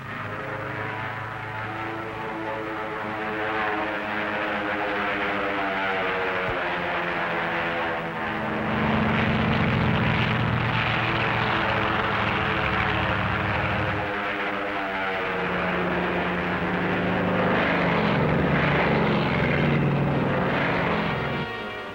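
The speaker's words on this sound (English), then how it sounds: "the drone aircraft are launched and temporarily guided from the carrier" Propeller-driven drone aircraft are launched from a carrier, giving a steady, loud engine drone with a deep, rising hum that swells midway and stays constant throughout, with no voices present.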